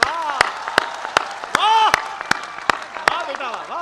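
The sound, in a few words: audience applause after a poem recital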